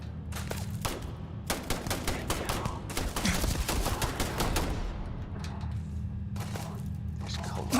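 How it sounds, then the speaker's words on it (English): Enemy gunfire in the video game Starfield crackles in dense rapid bursts of automatic fire, loud and close, with brief pauses between volleys over a low steady background hum. "God damn, who's shooting at me?"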